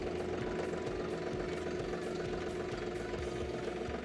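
A John Deere tractor engine idles close by, steady and rumbling, with a constant low chugging throb and no voices.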